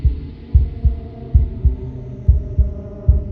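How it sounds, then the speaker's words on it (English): In the Slay the Princess video game, a wooden and fleshy heart beats with an unbroken rhythm: deep, steady thumps, roughly three per second in places, over a low droning hum, with no speech. "a wooden and fleshy heart beating with an unbroken rhythm"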